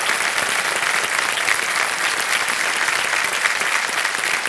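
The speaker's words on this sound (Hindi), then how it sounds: "तालियां बज जाए इनके लिए।" A studio audience on an Indian television quiz show claps in dense, steady applause that stays even and loud throughout, with no voices standing out.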